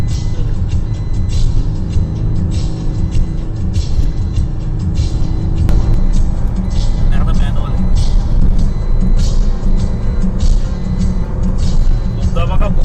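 A car cruises on cruise control through a long road tunnel, its steady engine and tyre rumble booming and echoing loudly throughout while a person talks over it.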